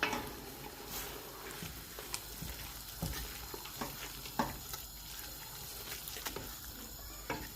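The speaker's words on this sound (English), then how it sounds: "wait till the meat starts to fry and you will start to hear that sizzling noise" Minced meat frying with onions and spices in a pan for samosa filling, a faint steady sizzle broken by scattered clinks and scraping stirs.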